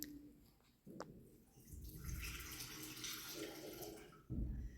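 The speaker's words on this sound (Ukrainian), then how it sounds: "річечка дзюрчить" A babbling stream sound effect plays during a kindergarten senior group's children's musical performance, a steady watery trickle with splashing like a running tap, moderately loud and continuous after a brief quiet start.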